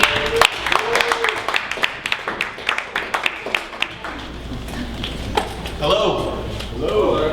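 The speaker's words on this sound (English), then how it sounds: "Please give him a round of applause." An audience at a Dallas startup pitch event gives a round of applause as a speaker is introduced, scattered claps rising and fading under murmuring voices, with someone speaking near the end.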